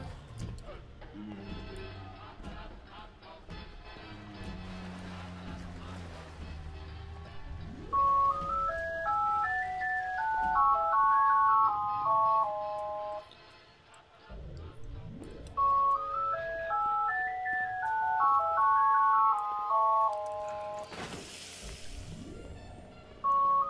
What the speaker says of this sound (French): il y a le téléphone, je vais répondre malheureusement